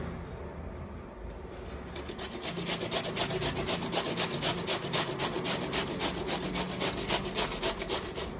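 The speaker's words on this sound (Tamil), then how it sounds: "இப்போ இதை நம்ம கேரட் சீவுறதுல நம்ம சீவி எடுத்துக்கலாம்." Peeled white ash gourd is rubbed against a carrot grater in fast, even strokes. The rhythmic rasping is close and steady and builds after a quieter start, with no speech over it.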